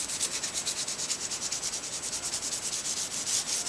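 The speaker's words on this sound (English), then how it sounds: "Now the first thing I want to do before I fill my holes is I want to lightly sand this" Light hand sanding on a wooden bookcase cabinet makes a rhythmic, close scratching rub, with quick regular back-and-forth strokes repeating steadily with no voices.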